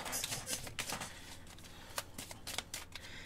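Tarot cards are shuffled and dealt in soft, rapid papery riffles and light slaps, close and fairly quiet, with no talking.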